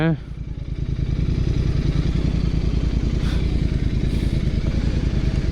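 A motorcycle rides along a road in Munnar, its engine droning steadily and close with a rhythmic, slightly clattery pulse throughout, under a light wash of wind and traffic.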